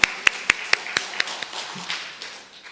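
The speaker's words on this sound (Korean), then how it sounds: "우리 다 함께 영광의 박수 올려드리겠습니다" Hand clapping from a church congregation during a Sunday afternoon service, sharp distinct claps at a steady brisk rhythm that thin out and fade, leaving a soft murmur of room noise.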